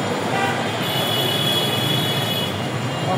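Dhaka metro rail train speeding past, heard from a footbridge at Farmgate: a steady, loud broadband rush of wheels and carriage noise with a faint high whine, continuous throughout with no talk.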